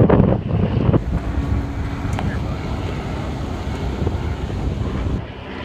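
Wind blows hard into the microphone outdoors, a loud, constant rumbling roar that buffets throughout and eases slightly at the end.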